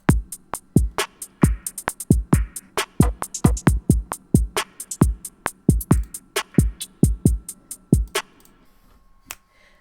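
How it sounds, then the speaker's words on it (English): A sparse hip hop beat made in GarageBand, with sharp percussive hits and snappy clicks repeating in a steady groove and pitched-down, stretched hi-hat ticks, thins out near the end. "now let's listen to everything with the hi-hats."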